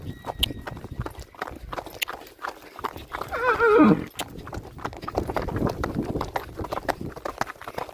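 A horse moves at a canter outdoors, with close, irregular hoofbeats thudding along and a brief loud whinny or snort partway through, no voices.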